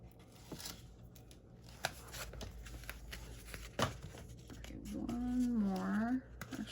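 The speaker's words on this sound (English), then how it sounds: "get these other tapes pulled off" Backing tape being peeled off a chunky 4.5 by 4.5 inch Christmas scrapbook mini album, soft scratchy rips and rustles at close range, intermittent, with someone talking and a short hummed phrase near the end.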